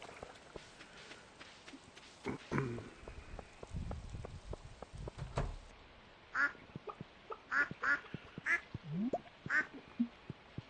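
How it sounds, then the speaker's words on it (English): Ducks quacking in the farming video game Stardew Valley, a series of short, fairly loud quacks in a cluster toward the end, over soft footstep-like game sounds and a brief low swell. "Oh, quacks."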